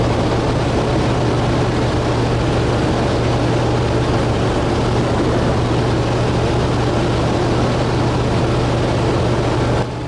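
A Fairchild 24W light aircraft's engine drones steadily at reduced approach power, a loud continuous propeller hum with a low tone that holds unchanged from start to end, heard from the cockpit.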